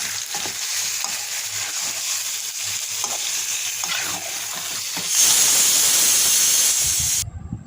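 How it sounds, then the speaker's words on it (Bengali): Chicken pieces stir-fried with cooked-down spice paste in a pan for a Bengali chicken kosha, a loud continuous sizzle and hiss with scraping stirs, growing sharply louder near the end before cutting off abruptly. "মশলা কষা হয়ে গেছে এবার চিকেনগুলো দিয়ে দেবো দিয়ে কষিয়ে দেবো"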